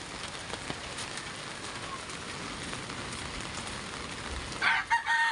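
Heavy rain falling in a seaside village in Barangay Bukana, Kamidagat, during rough weather: a dense, constant wash of rain, with a rooster crowing loudly nearby just before the end.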